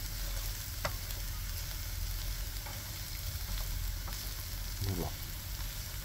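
Pasta fries in a pan with a constant crackling sizzle, broken by a few light scrapes and clinks as it is stirred, close and alone with no talking.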